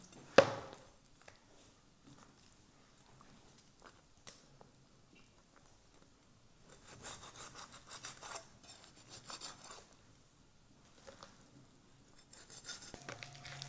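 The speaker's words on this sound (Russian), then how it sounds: "И точно так же будем очищать, зачищать косточки со всех ребер." A knife scrapes meat off veal rib bones with faint, intermittent scraping strokes close by. A louder knock comes at the start, then quieter bursts of rasping, with no talk.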